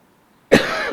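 After a moment of silence, a single sharp, close cough bursts out loudly.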